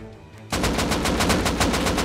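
Rapid automatic gunfire in the survival video game Rust, with a quiet lead-in before a sudden, loud burst of evenly spaced shots that keeps firing without pause.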